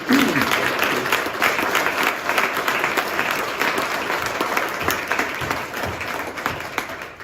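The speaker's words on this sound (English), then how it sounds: "if we can give him a round of applause because he served 30 years" An audience at a police promotion ceremony gives a sustained round of applause for a retiring captain after 30 years of service, steady and fairly loud, tapering slightly toward the end.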